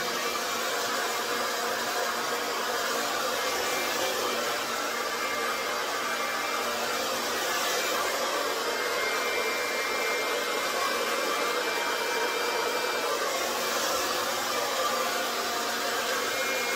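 Hair dryer blowing on medium speed with high heat while drying hair, a loud, steady, close whoosh that runs without a break and stands alone.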